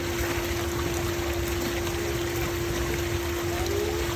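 Pool water drains steadily down a return or overflow fitting during pool maintenance, a continuous close rushing trickle with a faint steady pump hum underneath and no talking.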